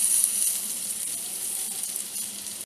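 Black pomfret fish laid into hot oil gives a steady, moderate hiss of frying, close and even throughout, with no voices.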